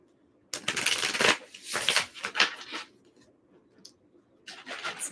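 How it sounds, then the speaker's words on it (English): Tarot cards shuffled by hand in quick, papery riffles and bursts, close and fairly quiet, with short pauses between shuffles. "I'm going to get a good shuffle here."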